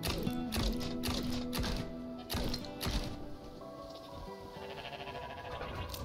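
Goats in the video game Wizard with a Gun bleat in a quick run of short, nasal calls, followed by softer tapping and clattering game sounds with a faint musical hum underneath.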